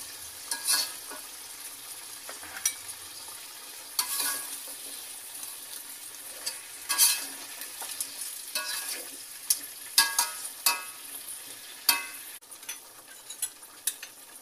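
Potatoes and onion sizzle quietly in a pan while a utensil scrapes and stirs in irregular bursts, with soft clinks between.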